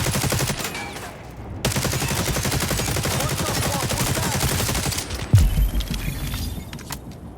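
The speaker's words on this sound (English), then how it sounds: "Is this a shotgun?" Rapid, loud gunfire from a shotgun in the video game The Division, dense repeated blasts and bursts with an impact or shatter near the end, no talking.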